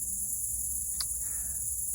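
Crickets chirp in a constant high, dense trill outdoors, steady and moderately faint, with no voices.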